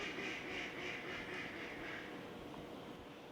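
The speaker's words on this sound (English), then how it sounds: "The ducks are awake." Ducks quack in a steady outdoor chorus at a campsite near a bridge construction zone, moderately distant and continuous under a wash of ambient noise.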